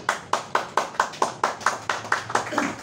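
Hands clap in a steady, even rhythm, about a dozen sharp, close claps in quick succession with no other sound around them.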